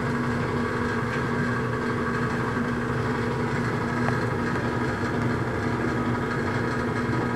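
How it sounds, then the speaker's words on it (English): A clothes dryer runs in the background near a Weil McLain boiler with a Beckett burner, giving a constant, droning mechanical hum with a steady tone and no pauses. "For those that wonder, that's the dryer running in the background."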